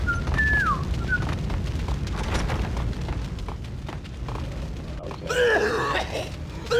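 A man whistles a short falling tune during the 2001 video game Max Payne, two brief whistled phrases near the start over a heavy low rumbling ambience, followed later by a denser burst of higher tonal game sounds.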